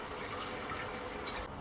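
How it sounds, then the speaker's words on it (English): Water pouring steadily into a large saucepan while making mushroom soup, a soft continuous splashing fill with faint gurgles, quiet and close, no talking. "Add 1 pint of water"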